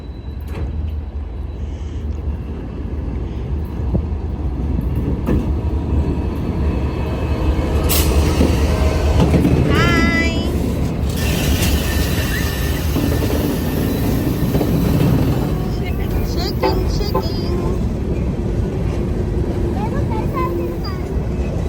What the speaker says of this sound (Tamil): ஹே ட்ரெயின் வரப்போகுது